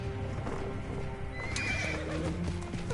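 A horse in the video game Assassin's Creed Origins whinnies loudly over a run of clip-clopping hooves, close and clear with a bright neigh partway through.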